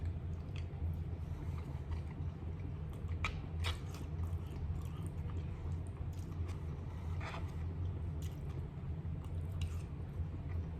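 Someone chews MRE hash brown potatoes with bacon, peppers and onions, giving soft, irregular wet bites and squishes close to the mic over a low steady hum, with no talk.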